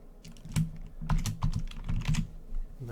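Quick bursts of close, crisp keystrokes on a computer keyboard while entering a formula in an Excel spreadsheet, about a dozen clicks in irregular clusters with no talking.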